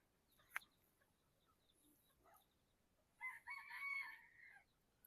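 A rooster gives one clear, fairly loud crow, heard alone after a few faint earlier sounds.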